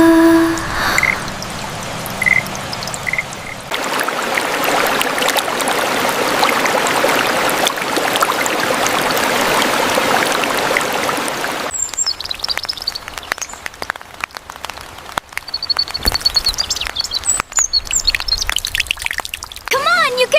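Monsoon rain splashes around an old car in a dense, pouring rush for about twelve seconds, then thins to scattered drips and trickles, with voices talking over it.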